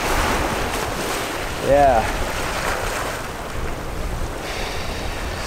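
A kayak is paddled across open ocean waves, with steady wind rush and sloshing water throughout and a brief voice in the middle.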